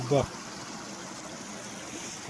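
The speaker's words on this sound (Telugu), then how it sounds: "ఇట్లా పోతున్నాయి వాటర్." A stream flows through a wooded roadside spot as a steady, even wash of running water, with a brief voice at the very start.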